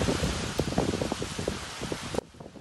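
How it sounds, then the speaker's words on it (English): Heavy rain pours down on a neighborhood in West Bay, Grand Cayman, a dense, steady roar with scattered close splatters and drips, no voices. "You can see heavy rain battering a neighborhood there."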